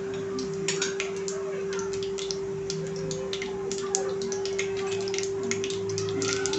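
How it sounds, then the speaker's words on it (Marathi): Cumin and mustard seeds crackling in two spoons of hot oil, a steady scatter of small, close pops and ticks over a constant low hum, with no talking. "जिरी मोहरी ना आपल्याला छानपैकी तडतडू द्यायची आहे।"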